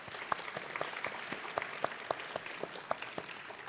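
Scattered applause for the College of Public Service faculty at a spring 2023 graduate hooding ceremony, a modest crowd clapping in distinct sharp claps, fairly quiet and thin rather than a full roar.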